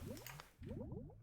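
A cauldron in a Minecraft game with the Witchery mod bubbles away, giving a steady run of close, soft gurgling pops with no voices.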